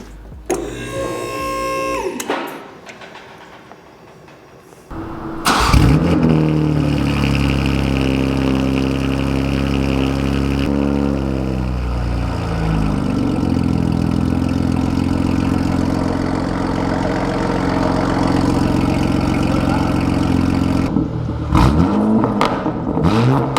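A BMW G80 M3 engine starts up and settles into a steady, loud idle with deep rumbling exhaust through a single midpipe, a brief rev around the middle, then shuts off near the end.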